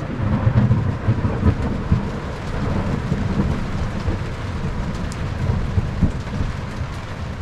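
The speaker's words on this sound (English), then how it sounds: "oh, that was a big lightning strike." Rolling thunder from a lightning strike rumbles low and steady through a heavy rainstorm, with dense rain pattering on surfaces throughout.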